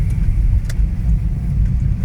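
Inside a car driving through Kharkiv's Saltivka district in winter, a loud steady low road and engine rumble with no breaks and a couple of faint higher ticks.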